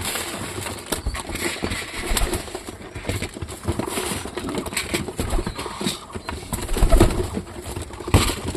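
Domestic pigeons feed and coo in a close, busy coop, with a steady bed of soft cooing, pecking and shuffling throughout and a few louder bursts near the end.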